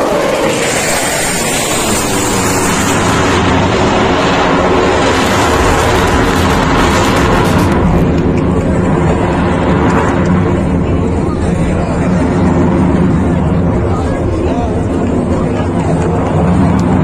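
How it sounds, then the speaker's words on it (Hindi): A Chinook helicopter at an Indian Air Force air show in Chandigarh, heard as a loud, continuous rotor and engine roar with dense low-frequency rumble that stays steady throughout, with crowd noise mixed in. "ये है चिनूक हेलीकॉप्टर"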